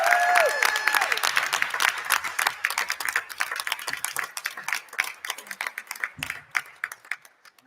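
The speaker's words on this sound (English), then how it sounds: "let's have one more round of applause for all our teams tonight" A school committee meeting audience gives a round of applause for its teams, dense clapping at first that thins into scattered, sharper claps as it fades.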